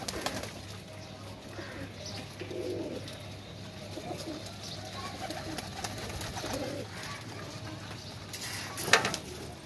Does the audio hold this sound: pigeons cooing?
yes